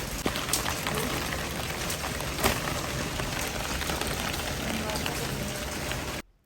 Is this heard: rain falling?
yes